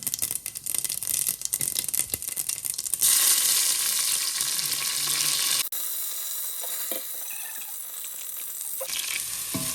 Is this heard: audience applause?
no